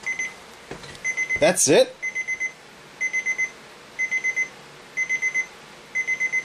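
A Geekhouse 5S alarm clock emits repeated bursts of four thin electronic beeps in a chiptune, Atari-like tone, fairly quiet and regular, with a brief spoken remark partway through.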